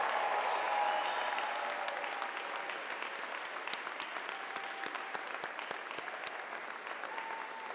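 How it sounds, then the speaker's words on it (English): A ceremony audience applauds PhD graduates at a university public health diploma ceremony: dense, steady clapping from a large crowd, even and sustained throughout. "I want to give them a big round of applause"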